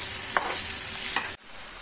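Onions and garlic sizzle in a hot pan while a spoon stirs them, giving a steady frying hiss with two brief scraping strokes, close up, which cuts off abruptly near the end.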